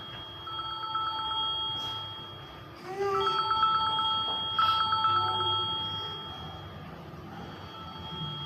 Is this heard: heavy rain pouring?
no